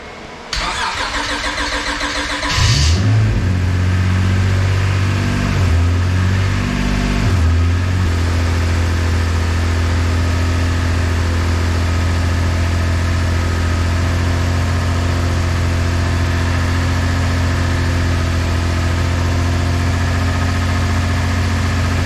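A car engine with freshly adjusted valves cranks briefly, then catches and revs up before settling into a steady, loud idle that runs on without any voices.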